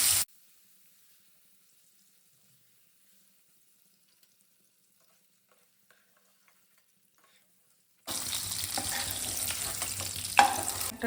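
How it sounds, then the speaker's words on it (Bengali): About 200 grams of paneer hits hot oil in a pan for malai paneer, and a loud, crackling sizzle bursts in after a long near-silent stretch, continuing to the end. "পনিরটা একটুখানি আমি সামান্য একটুখানি ভেজে নেব।"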